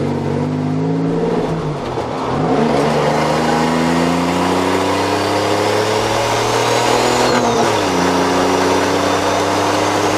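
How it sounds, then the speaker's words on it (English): Turbocharged Toyota truck engine pulling hard on a test drive, loud and close, its pitch climbing steadily through a long gear, dropping briefly at a shift, then rising again. "So I'm out test driving the new turbo setup, and that definitely makes a big difference."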